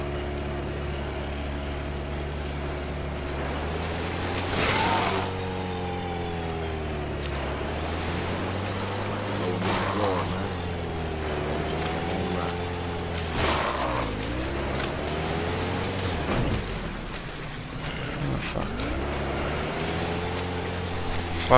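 A motorboat engine drones steadily in Dead Island: Riptide, its pitch rising and falling as the craft moves, with waves and water wash mixed in throughout; no one talks.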